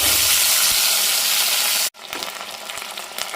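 Chopped tomatoes and onions go into hot oil with mustard seeds and curry leaves for egg curry, a loud roaring sizzle that cuts out abruptly, then returns as a quieter crackling fry with small spatters.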